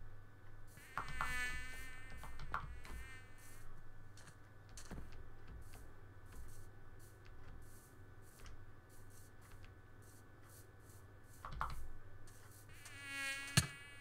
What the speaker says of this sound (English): Mosquitoes. Let's get out of here.